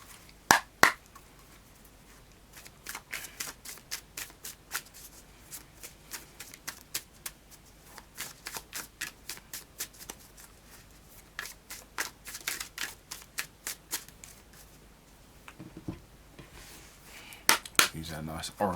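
Oracle card deck being shuffled by hand, a long run of crisp riffling snaps and slaps in uneven bursts, close and fairly quiet, with a voice speaking briefly.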